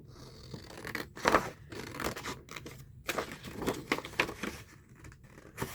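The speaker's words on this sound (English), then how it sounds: "Just going to cut it out like that real quick." Scissors snip through a paper journal page in a run of short, uneven cuts with rustling between them, close and fairly quiet, with no talking.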